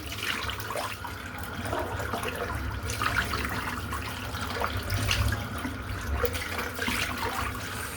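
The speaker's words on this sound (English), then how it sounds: "I'll rinse the soap out, I'll rinse the brush out." Tap water runs steadily into a sink while a shaving brush is rinsed of soap, a continuous close splashing stream with small bursts and no voices.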